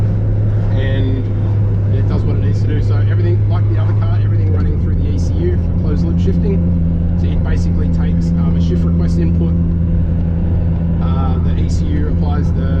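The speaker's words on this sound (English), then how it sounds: "Now the transmission, as I said, is a Holinger, air shifted, and yeah, just does the job really nicely, effortlessly on shifts." An Evo 9 race car with an air-shifted Holinger transmission rumbles with a deep, steady engine drone that drops in pitch partway through, heard close under continuous talk.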